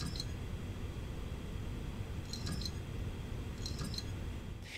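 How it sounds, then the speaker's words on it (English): A Seagate IronWolf NAS hard drive parking its heads gives faint clusters of small ticking clicks, spaced about two seconds apart, over a steady background hiss. "if you have yourself a Seagate Ironwolf or basically any Seagate NAS hard drive, then you might be familiar with this kind of annoying clicking sound."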